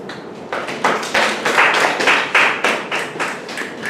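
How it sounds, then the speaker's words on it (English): Clapping from a poetry reading audience, a small group producing distinct pulsing bursts of claps that swell and recede in a loose rhythm, close and fairly loud. "The audience was clapping, but I hope you heard it."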